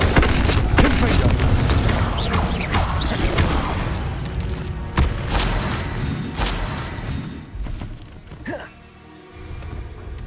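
Confringo blasting spell explosions in the Hogwarts Legacy video game, a dense barrage of booms, crashes and impacts under game sound effects, with voices speaking over the combat.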